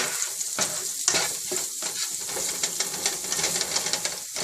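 Onions and ginger garlic paste frying in a pan for street-style pav bhaji, a steady close sizzle with scattered crackles and occasional spoon scrapes, no talking.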